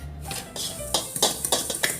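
Cookie ingredients are mixed in a bowl until crumbly. A utensil clinks and scrapes against the bowl in quick repeated strokes that quicken in the second half, close and alone.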